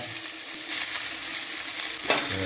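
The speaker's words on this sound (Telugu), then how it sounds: "ఆకేసి ఇలా కలపాలి." Malabar spinach leaves are stirred in a frying pan with ginger-garlic paste, asafoetida and turmeric, producing a close, continuous sizzle with scraping stirs and a sharper clank near the end.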